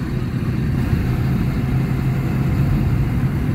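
A Kia Carens Prestige petrol car's engine pulls in second gear, giving a loud, steady low drone with a constant hum and no talking over it.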